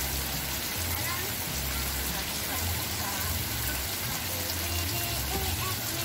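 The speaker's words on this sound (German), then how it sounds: "Hier, wenn es regnet, also es regnet" Heavy rain patters steadily and densely on surfaces in Senaru village, northern Lombok, a constant hiss throughout with low rumbling underneath.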